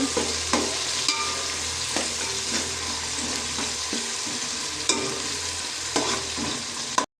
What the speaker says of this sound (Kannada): ಮಾಡಿಟ್ಟ ಟೊಮೆಟೊ ಹಾಕ್ತಿದ್ದೇನೆ ಇದನ್ನು ಚೆನ್ನಾಗಿ ಫ್ರೈ ಮಾಡಬೇಕು